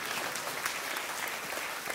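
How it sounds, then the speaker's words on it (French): Church congregation applauding during a French sermon, a steady roll of many hands clapping together at moderate volume, even and sustained with no voices over it. "si vous applaudissez tous"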